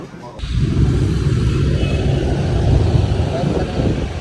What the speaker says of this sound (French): on a pris un petit scooter, voilà, tranquillement